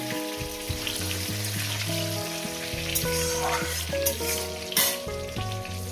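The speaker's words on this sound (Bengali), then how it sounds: "পটলটাকে সুন্দর করে ভেজে নেব" Pointed gourd pieces fry in hot oil with a steady hissing sizzle and a few sharper crackles, while sustained melodic tones play underneath throughout.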